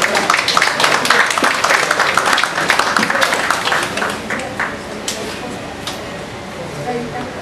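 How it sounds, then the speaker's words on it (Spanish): Audience applause at a literary event, a dense crowd clapping for several seconds that thins into scattered claps, with a voice speaking faintly underneath. "vamos a recibir con un fuerte aplauso a José Vélez Rosas."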